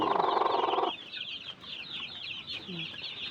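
Brooding hen of the hulo breed clucking nearby, a loud dense burst of clucks at first, then softer repeated clucks over steady high-pitched bird chirping in the background.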